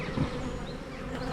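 Honeybees buzz in a continuous close drone while a hive is opened and its frames inspected, with no talk.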